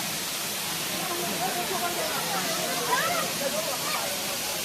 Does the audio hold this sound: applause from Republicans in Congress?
no